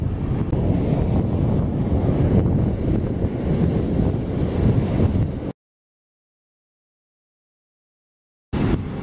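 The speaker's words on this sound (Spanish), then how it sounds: "Ah, se hizo la marea ahora." Sea surf rolling onto the shore as the tide comes in at a fishing spot, a loud steady rushing roar heavy with wind buffeting the microphone, cut by a few seconds of silence.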